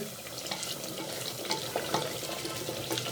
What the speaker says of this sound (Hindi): और अब हम इसे अच्छे से मिक्स कर लेंगे और इसे भून लेंगे